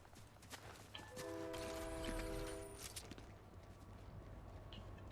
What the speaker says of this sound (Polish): pociąg chyba.